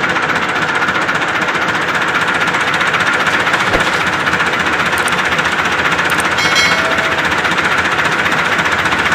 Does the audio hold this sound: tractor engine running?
yes